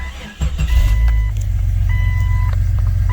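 Jeep XJ engine running cold at idle, a steady low rumble close by with a couple of thin beeping tones over the top.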